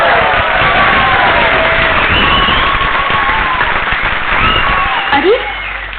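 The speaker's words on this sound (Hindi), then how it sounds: "ये तालियां किस लिए?" A large audience claps and cheers in a dense, continuous wash of applause on an old, band-limited recording that fades slightly toward the end.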